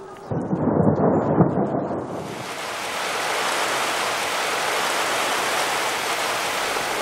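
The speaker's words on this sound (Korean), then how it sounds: "다시 비가 쏟아집니다." Heavy rain pours down in Ethiopia, opening with a deep rumble of thunder that gives way to a loud, dense, steady hiss of downpour, with no voices.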